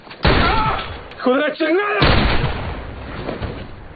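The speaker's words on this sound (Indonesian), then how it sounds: "tak lama muncullah tembakan yang berasal dari Ketchum" Two sharp gunshots crack out, one near the start and another a moment later, with a voice speaking briefly between them and reverberant noise trailing after.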